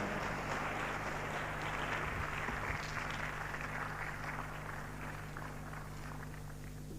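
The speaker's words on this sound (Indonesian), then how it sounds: "Oke, tepuk tangan buat Ibu Eni" Audience applause at a business seminar, a faint, distant wash of clapping that holds steady over a low background hum.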